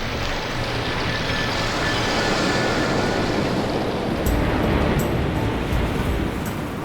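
Sea waves wash against the shore in a broad, continuous roaring hiss with some wind buffeting, steady and fairly loud throughout with no voices.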